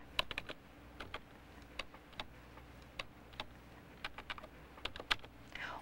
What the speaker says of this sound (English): or use the numbers on my keyboard.